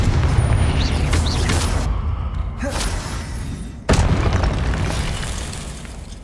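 Explosive Confringo spell blasts in the Hogwarts Legacy video game, with heavy booming rumbles, a brief lull and then a sudden sharp blast followed by a rolling, fading roar, loud and without speech.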